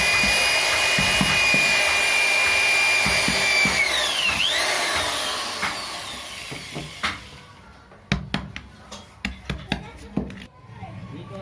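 Power tool whirring through wood while a Durga figure is carved, loud and steady at first with pitch sweeps, then fading into sharp knocks and taps under a man's speech.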